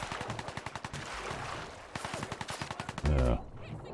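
Bursts of rapid enemy Gunner gunfire in the game Fallout 4, sharp automatic shots in quick rhythmic volleys with short pauses between them, ending in a brief heavier blast.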